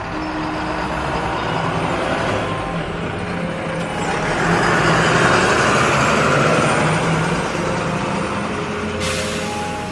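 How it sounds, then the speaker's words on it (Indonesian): A large vehicle's engine drones steadily and grows louder, rumbling low with a rising whine, filling the scene without any voices. "Terdengar suara kendaraan seperti suara bus dari belakang mereka."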